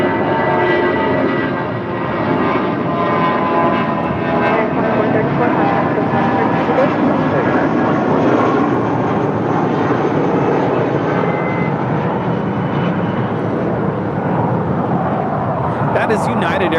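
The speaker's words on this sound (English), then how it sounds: "That is United Airlines 2434 departing to Bozeman on an A319." A United Airlines Airbus A319 jet departing, a sustained loud engine roar throughout, with voices talking over it.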